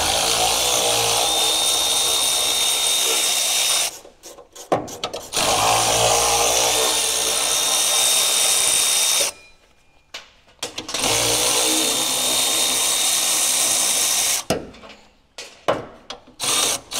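Power tool, likely an impact wrench, removing a 17 mm shock mount nut on a Mitsubishi U62T during a 4 inch lift kit install. Loud sustained whirring comes in three long bursts separated by short pauses, with clanks and small knocks between runs.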